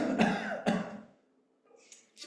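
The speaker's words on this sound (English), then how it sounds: "this pose is squeezing me and making me cough" During a seated yoga pose with one leg crossed over the other, a person coughs twice in quick succession, close and fairly loud, followed by quiet.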